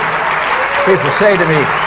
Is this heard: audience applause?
yes